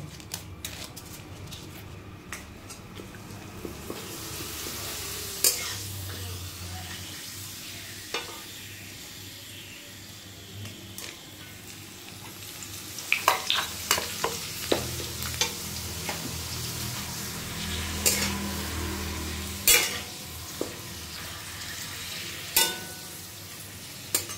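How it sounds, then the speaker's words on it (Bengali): Papad frying in hot oil before fish goes into the pan makes a continuous close sizzle with bursts of sharp crackling pops, busier in the second half, under occasional utensil taps and no speech. "এই পাঁপড়টা ভেজে তারপরে মাছগুলো ভেজে নেব।"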